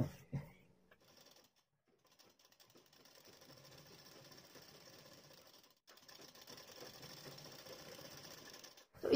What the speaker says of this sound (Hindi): पलटने के बाद गले पर सिलाई लगा देंगे